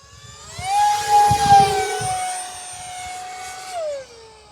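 A small model airplane's whining engine rises in pitch as it dives close overhead, then holds steady and drops away as it passes.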